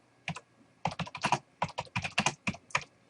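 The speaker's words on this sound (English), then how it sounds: "I'm not a very fast typer, so we're not gonna go real far with that." Fingers type on a computer keyboard, close and clear, in quick irregular bursts of keystrokes separated by short pauses.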